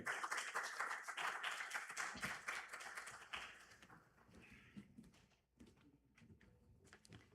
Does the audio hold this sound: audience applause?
yes